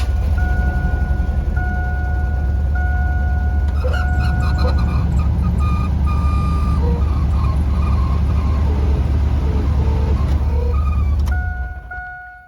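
A failing blower motor in a 1998 Chevy S10 lets out a high, wavering squeal over a loud, constant engine and fan drone. The squeal cuts in and out before everything winds down at the end.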